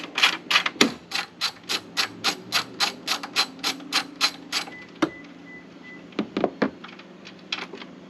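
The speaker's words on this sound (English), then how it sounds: "Gotta pop out the bolt right here. 10mm socket I'm using here." A 10mm socket ratchet backs a bolt out on a Jeep: a fast, even run of close clicks for about five seconds, then quiet, then a few scattered clicks and taps near the end.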